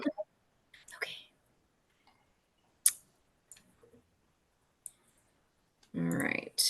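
Computer mouse clicks during an online team meeting come as sparse, sharp, isolated ticks against near silence, with soft murmured voices and a brief burst of louder noise near the end.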